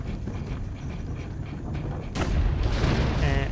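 Cannons fire from a turret in Assassin's Creed Brotherhood: a dense, rumbling game soundscape that jumps into a loud, sustained burst of booming fire about halfway through.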